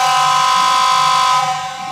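Horn of an H0-scale model ČD class 750 diesel locomotive fitted with a sound decoder, one loud steady harmonic honk held for over a second before tapering off.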